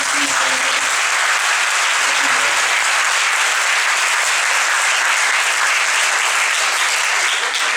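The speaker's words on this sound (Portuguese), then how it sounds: "Então eu quero pedir uma salva de palmas para os nossos convidados." Audience at a panel discussion on politics and social policy gives invited guests a round of applause: loud, sustained, dense clapping that holds steady for nearly eight seconds, with faint voices murmuring beneath at the start.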